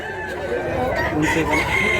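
A rooster, an 11-month-old fighting cock in Mantalungon, Cebu, crows nearby, a drawn-out call over background clucking and faint voices.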